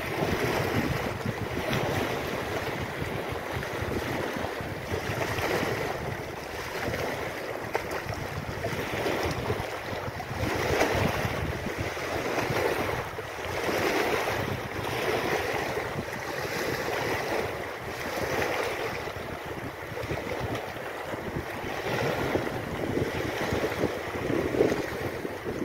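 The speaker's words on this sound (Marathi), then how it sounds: "लाटांचा आवाज आहे" Wind-driven waves wash steadily against the shore of the Tavarja dam reservoir, a continuous rushing surge with gentle swells and strong wind buffeting the microphone, no voices.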